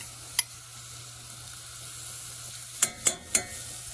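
Cooked corn going into a pot for vegetarian corn chowder, a soft steady sizzle with a few sharp clinks of a utensil against the pan near the end.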